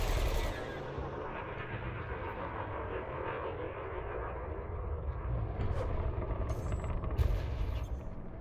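Ship weapons fire in a space combat video game, heard as a continuous roar of rapid gunfire and engine rumble with a few sharper bursts near the end.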